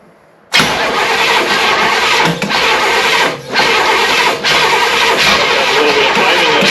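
After a brief quiet moment, the V8 in a 1966 Chevrolet Biscayne cranks and catches, then settles into a loud, steady, fast idle with a couple of short dips, heard up close.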